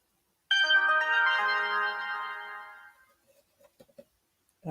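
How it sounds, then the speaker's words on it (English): A phone sounds a bright, tonal notification chime that rings for about two seconds and fades, followed by a few faint soft clicks in an otherwise quiet room. "I got notifications popping in on it."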